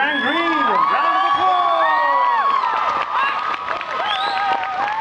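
Audience at a fan convention panel breaks into loud applause with whoops and cheers, sustained throughout, with voices calling out over the clapping.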